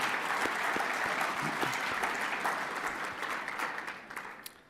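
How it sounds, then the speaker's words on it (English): Audience applause honoring award recipients at a sports hall of fame ceremony, a room of people clapping steadily then tapering off near the end. "let's give a round of applause to everybody that's being honored today."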